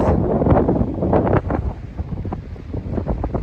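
Strong wind gusts buffet the microphone on a high mountain ridge in the Roan Highlands along the Appalachian Trail, a loud, rumbling, uneven roar throughout.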